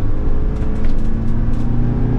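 Steady, loud engine drone of a Mercedes Sprinter Class B RV pulling hard under acceleration on a test drive, a continuous low rumble with no pauses and no talking.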